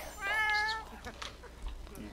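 A pet cat named Pebbles in a video game gives one clear, drawn-out meow, followed by a quieter murmur of voices.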